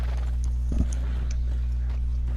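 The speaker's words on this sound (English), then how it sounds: "You're alright controlling that horse." Horse hooves clip-clopping in a video game, a steady run of soft footfalls under a constant low background hum, fairly quiet and with no talking.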